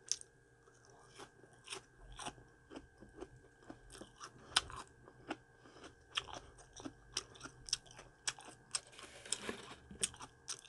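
Raw broccoli being chewed close up, with repeated crisp crunches and wet bites in an irregular rhythm that grows denser toward the end.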